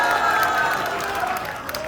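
Loud crowd noise at a political forum in Korea, with clapping and voices blending into a dense, sustained roar that tapers slightly toward the end.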